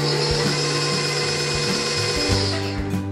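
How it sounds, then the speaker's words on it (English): An electric stand mixer lightly blends the dry ingredients for gluten-free lemon poppy seed muffins, giving a steady close motor whir with a few soft knocks, then slowing near the end. "you put them all into your mixer. Okay, and I'm gonna lightly mix this"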